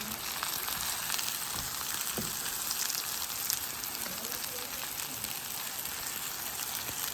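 Apple pieces sear in a hot skillet used earlier for steaks, giving a steady, dense sizzle with tiny pops, close and unbroken from start to finish, with no talking.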